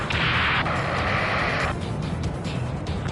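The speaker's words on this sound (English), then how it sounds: "Shit! Rocket!" Rocket explosion in a video game, a broad roaring blast with a sustained hiss that cuts off after about a second and a half, leaving a low rumble and scattered thuds.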